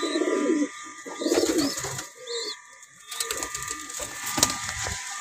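Pigeons coo in a rooftop loft where the birds are being fed grain and water, repeated soft throaty coos close by with scattered rustling and wing movement around them.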